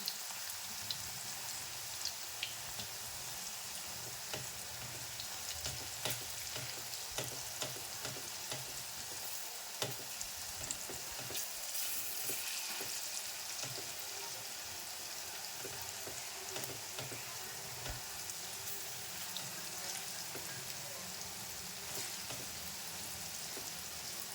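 Bora fritters for laddu sizzle steadily in hot oil, a soft continuous frying hiss with scattered small pops and crackles, faint and even throughout, with no voices.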